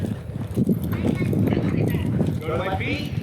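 Hooves of a horse loping around a riding arena in a training session, a steady rolling clip-clop rhythm close by, heard beneath a rider's continuous coaching talk.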